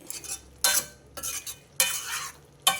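Green bean curry being stirred in a pan with a utensil, four distinct scraping bursts at a steady rhythm over a soft frying sizzle, close and fairly loud, with no voices.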